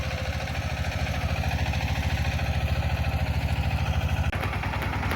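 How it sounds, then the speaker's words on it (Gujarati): A 12.5 horsepower mini tractor engine runs steadily with a fast, even low throb, close and constant throughout, with one brief dip near the end. "એટલે મિની ટ્રેક્ટર સાડા બાર હોસ પાવર"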